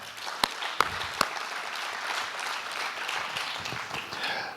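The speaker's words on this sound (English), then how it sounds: "Round of applause for Kwame." A conference audience at a blockchain event claps for the MC, a fairly quiet, steady patter of many hands with a few sharper nearby claps standing out early on, continuing throughout without speech.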